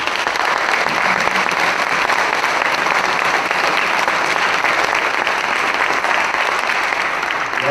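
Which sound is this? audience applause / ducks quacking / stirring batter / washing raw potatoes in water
audience applause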